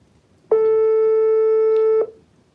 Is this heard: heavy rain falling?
no